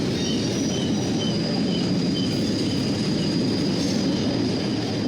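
Two helper locomotives pass at Horseshoe Curve in damp, foggy weather, a steady, fairly close rumble of engines and rolling wheels with a faint high whine above it.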